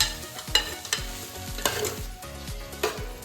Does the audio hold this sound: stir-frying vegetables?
yes